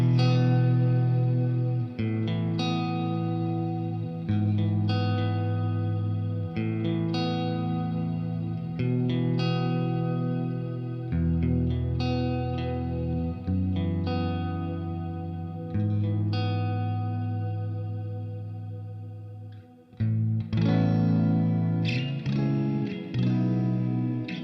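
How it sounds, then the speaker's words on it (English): Electric guitar played through a Boss Katana MK2 Artist Head solid-state amp, sustained chords and notes with effects, chorus and echo, loud and continuous with brief pauses between phrases. "I really like the way this thing sounds"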